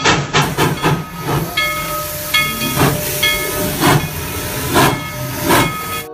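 A toy Thomas the Tank Engine steam train chugs with rhythmic hissing puffs while a high whistle tone sounds over it, loud and close.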